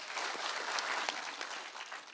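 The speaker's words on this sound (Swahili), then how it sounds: "Makofi tena." A second round of audience clapping at a county security forum, a thick, even patter of many hands held at a constant level throughout.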